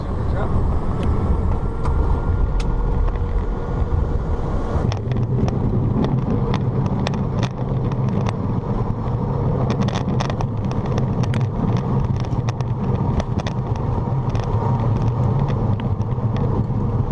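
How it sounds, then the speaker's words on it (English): A light aircraft touching down on a rough remote island runway at Palmyra Atoll, with a steady roar of engine and wind across the whole span and a denser rumble of wheels and braking after the touchdown about five seconds in. "We were just waiting for the sweetest sound of all, which is when the wheels hit down."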